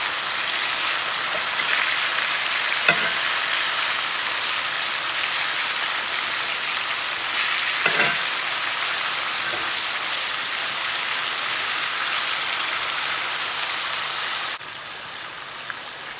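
Pieces of pepper steak sizzle in a hot pan as they are flipped, a steady loud hiss with a few soft clacks of turning, dropping quieter near the end.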